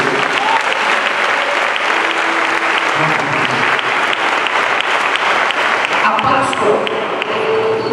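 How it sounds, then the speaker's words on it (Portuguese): A church congregation applauds loudly and steadily at an evangelical Easter resurrection sermon, the dense clapping filling the room throughout with a few voices rising briefly near the end. "Aplauda o Senhor mais uma vez."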